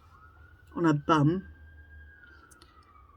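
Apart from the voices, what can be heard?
police sirens outside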